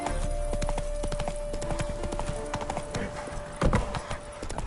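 A horse gallops in a video game, rapid rhythmic hoofbeats clopping steadily throughout with a louder thump near the end, set against a faint constant tone.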